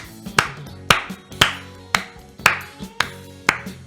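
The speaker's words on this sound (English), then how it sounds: "Keep clapping for that, boys" Seven sharp, evenly spaced claps about half a second apart, loud and close, each with a short ringing decay.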